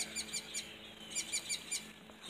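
Rapid repeated chirps from birds in a tropical garden ring out in quick regular bursts, fairly close and unhurried, with a soft outdoor hush underneath and no one talking.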